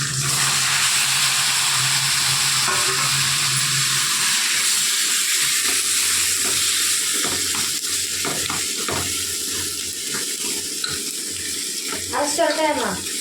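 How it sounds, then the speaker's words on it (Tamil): Onions and tomatoes sauté in a pan for a tomato pickle, giving a continuous soft sizzle with occasional stirring scrapes and a low background hum, no voices present. "நல்லா கொஞ்சம் நேரமாக வதங்கிடணும் வெங்காயம். அப்படியே தக்காளி சேர்த்துக்கலாம்."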